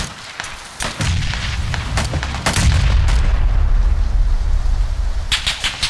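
A grenade goes off in a multiplayer shooter video game amid rapid gunfire, with a deep booming blast and a dense, loud rumble of shots and explosions.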